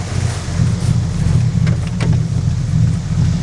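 A classic car engine idling steadily, a deep constant low rumble with some wind or hiss over it, close and fairly loud, with no voices.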